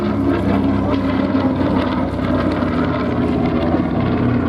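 Engines of a B-25 Mitchell bomber at the Flying Legends air show at Duxford give a loud, steady, continuous drone that holds unbroken throughout.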